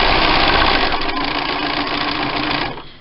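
A sewing machine stitches a quarter-inch quilt seam through thick nested fabric, running loud and steady close by for nearly three seconds before it slows and stops.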